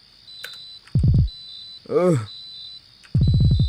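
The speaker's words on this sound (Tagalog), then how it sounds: "are you seriously going to let that machine beep all night?" A load machine gives off a steady, high-pitched electronic beep that runs through the whole stretch, with voices talking loudly over it in short bursts.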